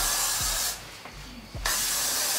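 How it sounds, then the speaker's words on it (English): Freeze hairspray is sprayed onto 4c natural hair in two short, close hissing bursts, with a brief pause between them over a steady background hiss. "I'm gonna take it and spray some freeze spray."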